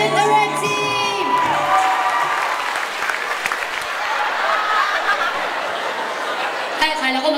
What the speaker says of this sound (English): Palakpakan natin the red team!